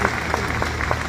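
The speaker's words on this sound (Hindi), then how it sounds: "एक जोरदार तालियां हम सबके महागुरु डॉक्टर संजीव कुमार गुरु जी के लिए।" Audience clapping in a lecture hall during a direct-selling motivational event in Pune, a steady wash of applause heard alone and fairly close.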